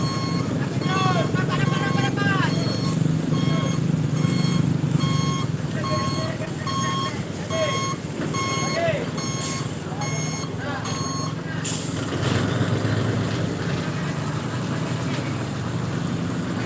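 A large tow truck arrives and maneuvers at a roadside recovery of a truck-versus-truck crash near Pekanbaru, its reversing alarm beeping in a steady repeated pattern over an idling diesel engine, traffic and voices in the background.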